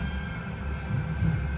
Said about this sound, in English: fortunately we're now on a tram going up towards NewtonHeath&Moston